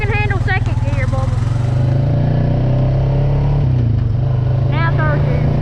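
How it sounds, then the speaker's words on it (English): An off-road vehicle engine drones loudly and steadily in second gear while driving through mud, with a constant low throbbing, rising slightly, as a dog barks or whines up close over it. "I hope you can handle second gear, Bubba."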